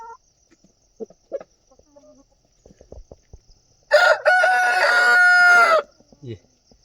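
Chickens in a backyard poultry enclosure housing 25 to 30 hens. One loud, near crow lasts about two seconds, with faint scattered clucks and soft rustling before and after.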